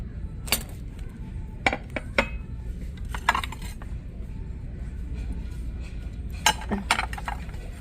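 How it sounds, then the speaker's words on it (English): Flatware clinks and rattles in scattered bursts as pieces are picked up and set down, with a steady low room murmur beneath and no clear speech. "I was just looking at the silverware or the flatware. I like picking up the flatware."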